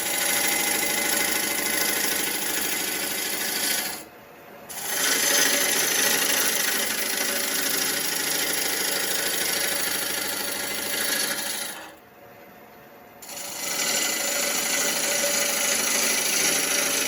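Tool cutting a hollow wooden vase on a wood lathe, push cuts along the top: a steady, dense scraping hiss from spinning wood, broken by two brief pauses where the tool lifts away, with no talking.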